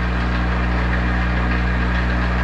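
A Monarch 10EE metal lathe running steadily close by, a loud continuous motor hum with a strong low drone and a broadband whir that holds even throughout, with no talking.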